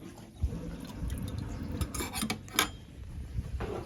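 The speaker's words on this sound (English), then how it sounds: "Well, it sounds like it's going down." Water gurgling and trickling down a drain, with soft clinks and drips against a metal basin, fairly close and steady throughout.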